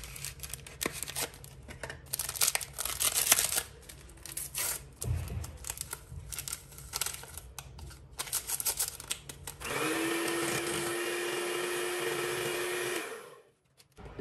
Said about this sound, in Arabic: غادي نخلط غير بالخلاط اليدوي